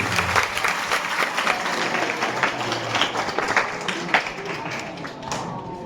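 Students at a Class 10 and 12 graduation ceremony at Ranoli High School applaud their teachers, a sustained round of many hands clapping from a crowd that carries on for several seconds.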